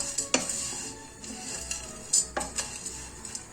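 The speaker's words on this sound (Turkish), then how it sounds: "Şöyle rengi değişene kadar eriştelerimizi çeviriyoruz tavamızda" Erişte noodles stirred and toasted in a pan, with scraping utensil strokes and clinks against the pan over a soft sizzle, a few sharper scrapes standing out near the middle.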